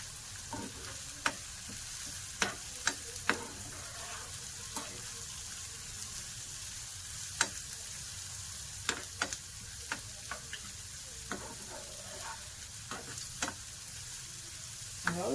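Ginger and curry leaves fry in hot oil with a steady, soft sizzle broken by frequent sharp spluttering pops and ticks, close by and without talk.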